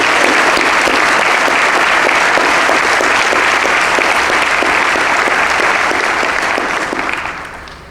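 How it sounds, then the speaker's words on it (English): A large audience at a mayor's State of the City address breaks into loud, sustained applause, dense clapping holding steady for about seven seconds before tapering off at the end. "let's give him a round of applause right now"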